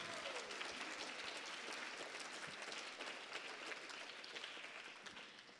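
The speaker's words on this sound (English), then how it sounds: "let's give that a round of applause" Applause from an audience at a Sunday feast gathering, steady and fairly distant, with dense clapping that fills the room and fades slightly toward the end.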